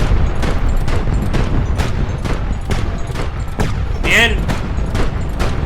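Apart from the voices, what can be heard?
ground units firing flak in video game Highfleet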